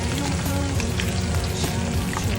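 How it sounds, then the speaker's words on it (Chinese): Aromatics stir-fried in hot oil in a wok for a spicy home-style Sichuan dish give a steady, dense sizzle with faint scraping, close and continuous with no talk. "先把小料头给爆香"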